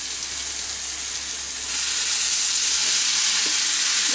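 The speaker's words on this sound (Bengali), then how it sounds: "এইভাবে আমি 2 থেকে 3 মিনিট আমি ভালো করে ফুটিয়ে নেব।" Pointed gourd simmers and fries in a pan with cumin, coriander and red chilli powders and water, giving a steady broadband sizzle that swells louder partway through, with a couple of faint stirring knocks near the end.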